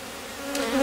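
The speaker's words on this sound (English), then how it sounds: "just a lot of bees." Bees in a Rose hive colony hum in a brief, close, continuous buzz that swells slightly louder at the end.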